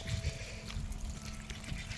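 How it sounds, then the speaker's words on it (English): Flood water runs down a small waterfall, a soft, steady trickle and wash heard at low level with a faint hum in the background. "Got a teeny tiny waterfall."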